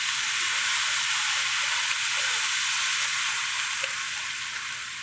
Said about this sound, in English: As you probably heard, we created kind of a sizzle, but we also created some steam